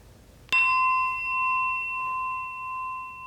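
A meditation bell is struck once, a clear metallic ding that rings on with a long, slowly wavering sustain over a quiet background.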